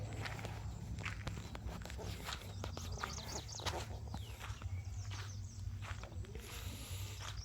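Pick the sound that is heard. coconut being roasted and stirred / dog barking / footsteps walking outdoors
footsteps walking outdoors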